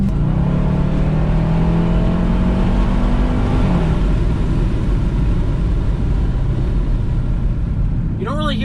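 A 2021 Dodge Durango Hellcat with a supercharged engine accelerates hard, a loud rising engine roar with a shifting whine, heard from inside the vehicle.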